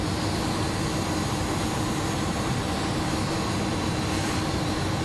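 Airbus A300-600F jet engines spool up for a run before takeoff in a flight simulator, a loud, steady, broadband roar with a rumbling low end that holds unchanged throughout, without speech.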